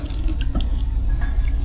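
Taiwan rice vinegar is poured into a cooking pot, a close, wet trickle with small splashes and drips that runs steadily for a moment.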